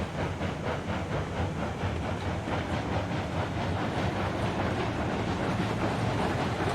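A train rolls along the rails in the video game Railroads Online, steady clickety-clack wheel beats over a dense rumbling, hissing roar, close and constant throughout with no talking.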